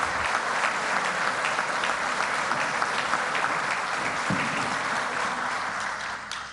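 Audience applause after a speech at Brazil's Palácio do Planalto, a dense, sustained wash of clapping that holds steady for several seconds before easing slightly at the end.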